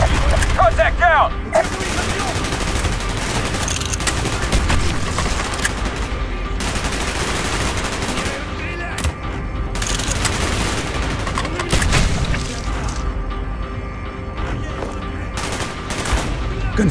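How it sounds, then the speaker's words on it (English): Call of Duty: Black Ops gunfire in a battle: loud, dense bursts of automatic rifle and machine-gun fire, continuous over the whole stretch with brief lulls, and shouted voices mixed in early. "Gunfire's drawing attention."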